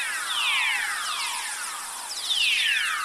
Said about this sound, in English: So that's the sound of lightning.